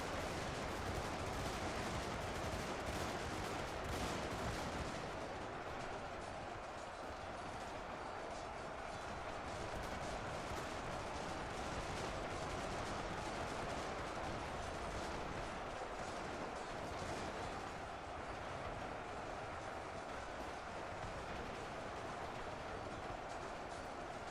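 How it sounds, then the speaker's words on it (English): Continuous rattling rifle volleys pour into a zombie horde in the modded Warhammer battle game UEBS 2, a dense, steady wall of distant gunfire lasting throughout, with no clear pauses. "And them rifles really laying the hurt into that zombie horde."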